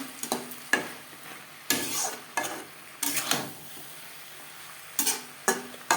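Vegetables with peas and tomato are stirred through a fish head curry in a pan, giving sharp bursts of spatula scraping and clinking over a faint sizzle, several strokes spaced out with pauses.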